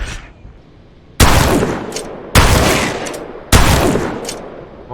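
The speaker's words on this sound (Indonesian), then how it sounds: "Mastiff itu 3 kali nembak dalam 2 detik tanpa pakai shotgun bolt apapun." A Mastiff shotgun in a video game fires three loud, close blasts about a second apart, each with a sharp attack and a long decaying tail, over quiet background.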